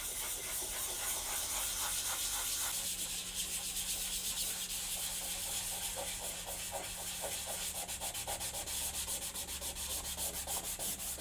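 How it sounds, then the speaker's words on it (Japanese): Wood surface being polished by hand with horsetail (scouring rush) stems: continuous close, loud dry scraping and rubbing strokes in a steady rhythm, with a low hum underneath and no talking. "トクサの凹凸は木の表面を薄く削り取るカンナがけと同じ効果があります。"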